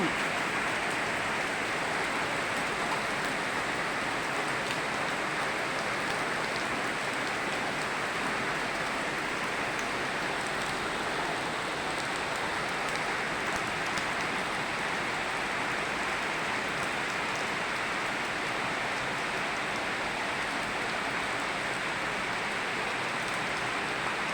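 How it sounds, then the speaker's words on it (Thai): Steady rain falls around a house in a dense, even hiss that holds unbroken and fairly loud throughout, with no clear talking over it. "บ้านค่อยฝนตก บ้านค่อยฝนตก พี่น้อง"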